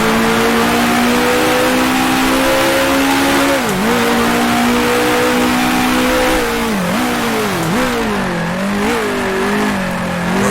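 A 1966 Formula One car engine in Grand Prix Legends, racing in the BRDC International Trophy, roars loud and steady, its pitch rising under acceleration and dipping sharply at several gear shifts or lifts, with faint tire noise throughout.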